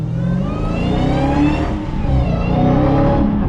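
A loud, modified 2020 Dodge Challenger Hellcat Widebody engine revs and roars continuously, a deep throaty growl with rising whine, close by and steady throughout.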